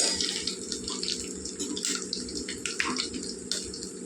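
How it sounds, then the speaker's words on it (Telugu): Curry leaves hit hot tempering oil in a dal with mango and amaranth greens, giving a steady, bright hiss and crackle with sputtering pops over a low background hum. "కరివేపాకు గుప్పుడు వేసుకుంటున్నానండి నేనైతే సౌండ్ వస్తుంది కదా"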